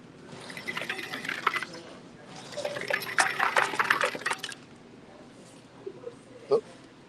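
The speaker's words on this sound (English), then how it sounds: "I'm gonna get me some more ice water." Ice water pours into a cup in two bursts of splashing and clinking, the second longer, followed by a few faint knocks, with voices talking nearby.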